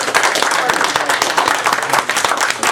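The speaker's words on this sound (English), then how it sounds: "Let's have a warm round of applause for our speaker." A warm round of audience applause for a speaker at a community meeting, dense steady clapping at close range with some voices in the room.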